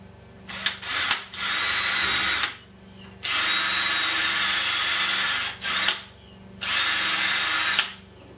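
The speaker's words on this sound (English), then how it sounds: "let's go ahead and pre-drill those" A power drill whirs in three sustained bursts, with brief stuttering trigger pulls before the first, pausing between runs as it pre-drills holes in wood.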